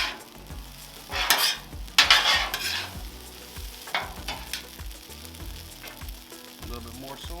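Fried rice with pulled pork sizzling on a Blackstone 36-inch griddle while egg is chopped and mixed in, metal spatulas scraping and tapping in uneven bursts over a steady close frying hiss.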